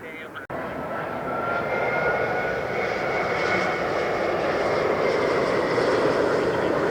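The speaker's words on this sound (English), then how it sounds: "The one that went around earlier will be landing after this jet." A jet airliner comes in to land at LAX, its engines a loud, steady broadband roar that swells within the first second and then holds close and constant to the end.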